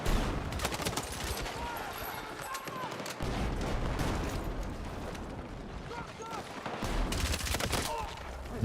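Continuous battlefield gunfire in the shooter Battlefield 6, dense overlapping rifle and machine-gun bursts with booming impacts and explosions filling the whole stretch, loud and close, with a player talking over parts of it.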